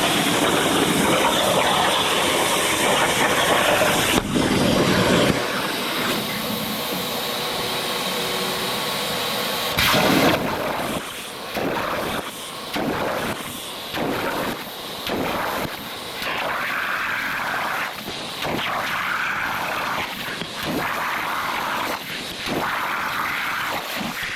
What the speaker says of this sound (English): So first thing it's going to do is cut those holes.